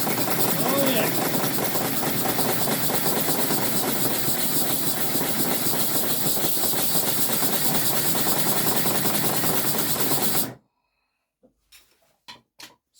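A restored Simplex engine running on a single cylinder gives a loud, steady, rough chugging roar with hissy noise for about ten seconds, then cuts out abruptly, leaving a few faint knocks and clicks.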